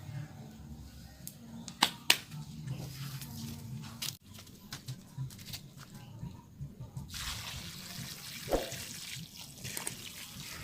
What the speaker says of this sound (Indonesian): Nah ini setelah ini kan kita siram dulu guys ya.